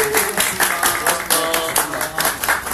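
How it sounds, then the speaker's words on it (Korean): Audience applause closes a progressive-politics talk event, with loud, dense clapping that surges in waves throughout and no voices over it. "모두 박수와 함께 오늘 마무리하겠습니다"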